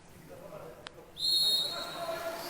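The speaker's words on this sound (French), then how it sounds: "c'est le coup de sifflet" A referee's whistle blows at the start of a French championship water polo match between Strasbourg and Tourcoing, a sharp shrill blast rising over echoing indoor pool crowd noise and then trailing off.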